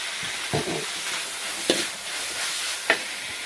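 Garlic and fresh chili sizzle in a pan with pork belly, a steady hiss of frying with a few light scrapes and clinks of stirring standing out now and then.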